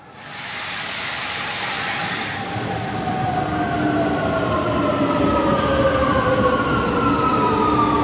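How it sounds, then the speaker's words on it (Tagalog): A metro train pulls into a station in Rome, a loud steady rumble with rising and falling wheel squeal tones that fill the whole stretch, with no talking. "Pero mukhang mabilis lang naman ng tren dito."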